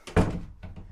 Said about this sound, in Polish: I pierwsze drzwi wstawione.